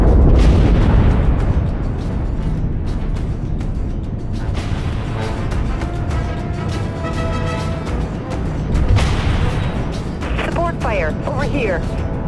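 Heavy artillery fire and explosions boom continuously in the naval combat video game Dreadnought, loud and dense, with sharp bursts layered over a rumbling battle and radio chatter throughout.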